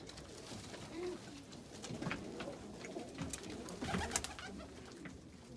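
Roller pigeons coo softly inside a loft, with low, repeated murmuring calls and faint rustling and fluttering throughout.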